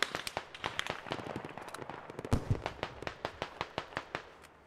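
Rapid, sharp explosive cracks from fragmentation grenades in the military shooter game Squad, a string of close bangs with one heavier blast near the middle, no talk over them.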